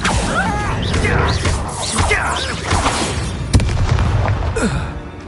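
Confringo fire-spell explosions in a Hogwarts Legacy battle: repeated booms, crashes and swishing whooshes of other spells, loud and close, with brief game voices mixed in.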